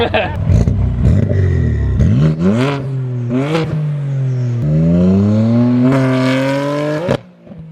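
An 800-horsepower BMW F80 M3 with a new aftermarket exhaust revs up and down repeatedly, its exhaust note rising and falling loudly and close, with people talking over it.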